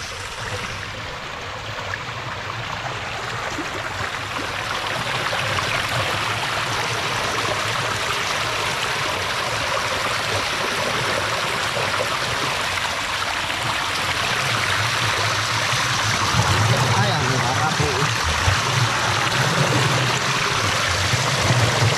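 Irrigation water rushes steadily into a rice paddy through a PVC pipe outlet, a continuous broadband gush and trickle heard close and fairly loud throughout, with no voices.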